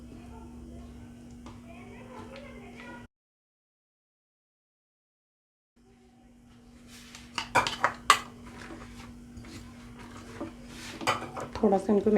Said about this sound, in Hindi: थोड़ा सा इनको मिक्स कर लेंगे।